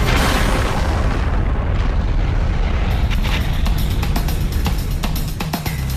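A burning styrene tanker blowing up at a fire scene, a loud sustained roaring boom with crackling bursts and rumble filling the whole stretch.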